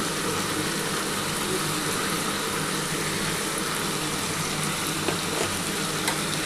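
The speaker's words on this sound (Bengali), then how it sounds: "পেঁয়াজটার সাথে কিন্তু বরবটিটা ভালো করে ভাজা ভাজা করতে হবে।" Yardlong beans and onion frying in a pan, a dense, even hiss of sizzling oil that holds steady throughout, with a couple of faint clicks near the end and no voices.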